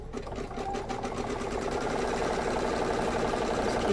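An embroidery sewing machine stitching a zip bag, its steady rapid needle clatter running continuously at an even, close, fairly loud level with no talking.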